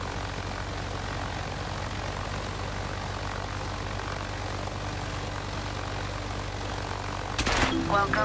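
Cargo plane engine drone in a flight simulator game, a steady loud propeller-aircraft roar throughout, with a sudden thump and rattle near the end as the plane touches down and bounces; a voice briefly speaks at the very end.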